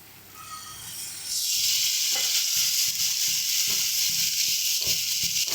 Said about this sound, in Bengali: মশলা সুন্দর করে কষানো হয়ে গেছে, দিয়ে দিচ্ছি একটু সামান্য জল